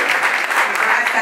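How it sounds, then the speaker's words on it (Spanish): Audience applause at an inauguration ceremony is heard as a brief, dense wash of clapping with steady loudness. "Un aplauso para ella, por favor."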